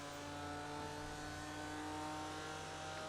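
In the iRacing game at Daytona, race cars produce a steady, even engine drone as they run back onto the oval, faint and continuous with no speech.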